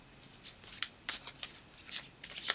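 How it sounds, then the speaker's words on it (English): A tarot card deck being shuffled, with a run of soft, quick riffling bursts and crisp papery flutters close up and fairly quiet, without any talking. "And then we will go shuffling."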